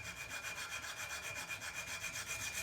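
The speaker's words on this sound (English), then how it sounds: "just use the diamond file and just file on the inner part." A diamond file rasps steadily against the inner part of a metal pottery trimming tool braced on the edge of a wooden block, giving a close, even run of repeated short strokes with no talking.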